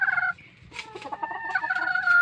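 A three-year-old broodcock rooster makes short, close, throaty calls with a few clucking notes, heard alone in a brief outdoor moment.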